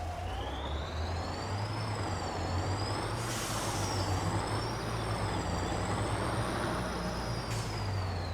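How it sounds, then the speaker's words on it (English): A heavy truck engine swapped into a New Holland tractor in Farming Simulator 22 runs steadily with a deep rumble, while high whining tones rise and fall above it throughout. "I think that's a truck engine that we've put in it"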